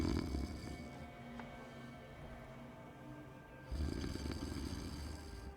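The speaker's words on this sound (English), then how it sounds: "Drunken snoring." A drunken character in the video game Tainted Grail snores loudly: two heavy, rasping inhaled snores, one at the start and one near the end, separated by a quieter breathing lull.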